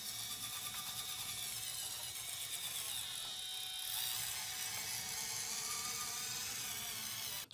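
A Turbo Racing C50 4x4 RC semi-truck runs at high throttle across a desk, its tiny electric motor giving a steady, high-pitched whine with gear chatter that holds constant for several seconds.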